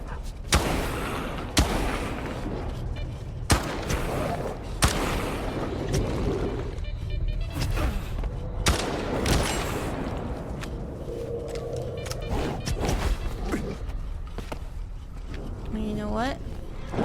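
Gunfire in S.T.A.L.K.E.R. 2: loud, sharp shots at irregular intervals, some in quick bursts, with a jamming weapon, booming rumble between shots and someone talking over parts of it.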